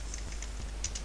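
Computer keyboard being typed on, a quick run of light clicking keystrokes, close and clear with no talking.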